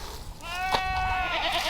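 A goat on a fenced farm gives a clear, wavering bleat lasting about a second, moderately close over steady outdoor background noise.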